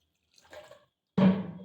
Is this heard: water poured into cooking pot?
yes